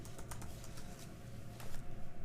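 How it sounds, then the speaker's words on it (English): Quick keystrokes clatter on a computer keyboard, a short burst of close, light clicks in an uneven rhythm with no talk over them. "We could type something like median"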